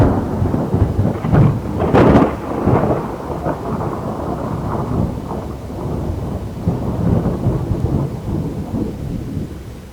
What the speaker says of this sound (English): the ongoing storm was powerful enough to destroy their ship